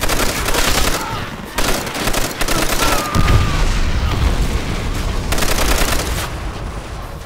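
Gunfire at barrels in the video game Call of Duty: World at War: loud rapid bursts of shots and booming blasts, a heavy explosion near the middle, with only brief gaps between volleys.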